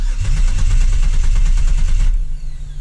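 Camaro 3.8L V6 engine cranking over with the starter, a rapid rhythmic chugging for about two seconds that then cuts off abruptly, loud and close.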